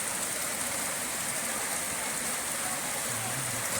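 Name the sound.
heavy rain falling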